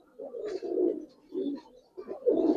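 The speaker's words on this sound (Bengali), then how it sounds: "এই এক জোড়া জাক কবুতর দেখাইতেছি ভাই" Up close at a farm, Giribaz pigeons coo in several low, burbling bursts separated by short pauses, the last one the loudest.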